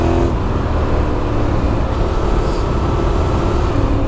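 A Yamaha Tenere 700 fitted with Mitas Enduro Trail XT Plus tires rides off-road through woods, a loud continuous engine roar mixed with wind and rough terrain rumble.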